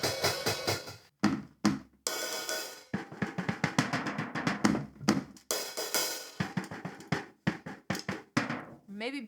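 A homemade drum kit built from garden supplies on a plywood floor is played in loose, thumping hits and quick fills with short pauses between phrases; a voice sounds along with the drumming.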